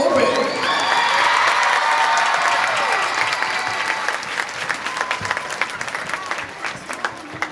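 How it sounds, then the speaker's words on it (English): Applause and cheering from an audience at a school color guard, dance and drum performance night, loud dense clapping that swells early and then thins into scattered claps and shouts. "Once again, big round of applause for James Logan Open."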